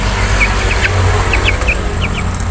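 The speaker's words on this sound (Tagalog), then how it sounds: "So, yung tatlo naman po na mga sisiw ay malalaki na." Chickens cluck in a short run of soft, scattered calls over a steady background hum. The flock, including growing chicks, sounds fairly near, with no voices.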